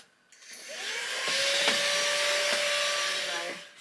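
A new upright vacuum cleaner whirs up to a steady loud roar with a constant motor whine, a few faint knocks during the run, then spins down at the end.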